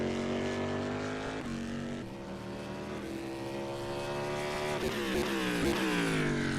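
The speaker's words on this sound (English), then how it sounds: "We'll let it turn the corner and have a listen to this engine." Cadillac DPi prototype race car engine in the rFactor 2 racing sim, a loud continuous roar with rising and falling revs and shifts as the car rounds a corner, with no talking.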